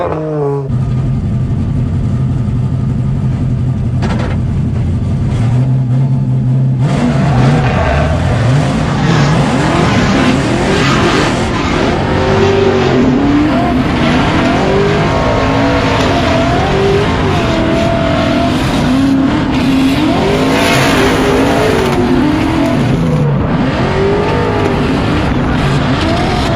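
A Formula Drift race car runs a lap at the Orlando round of the 2024 series, its engine roaring loud and close throughout with repeated revving surges and tire squeal, no speech.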